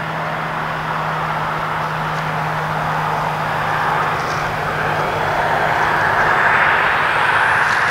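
An E-flite Twin Timber RC airplane in flight, its electric motors giving a steady, continuous drone that swells slightly toward the end, heard outdoors with no talking.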